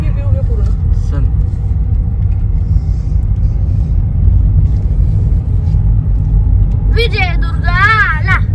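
A car drives along a road near Vijaydurg fort, a steady, loud low engine and road rumble filling the cabin throughout, with voices talking over it near the end.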